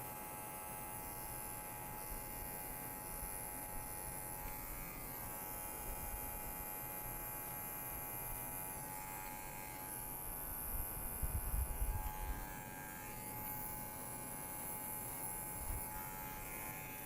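An electric hair clipper buzzes steadily while cutting a fade haircut, its motor hum continuous and close, with brief shifts in tone as the blade moves through the hair and no talking.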